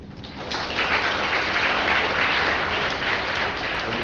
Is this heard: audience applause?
yes